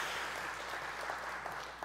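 Sustained applause from the audience at a Catholic forum in Jeju for a singer who has just performed, a steady dense clapping that holds evenly at the same level throughout.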